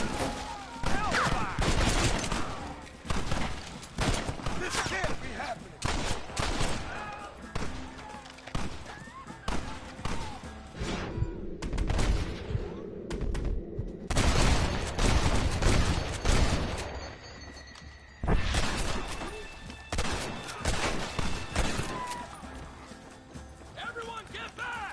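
Rapid bursts of gunfire crackle almost nonstop in a Red Dead Redemption shootout, with galloping hooves and shouting voices mixed in, loud and dense with only brief lulls.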